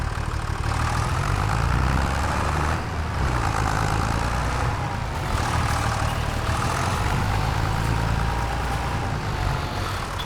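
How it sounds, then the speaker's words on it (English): A small farm tractor engine runs steadily nearby, a loud, rough, unbroken drone with slight surges over ten seconds. "we need to get our little tractor out the way"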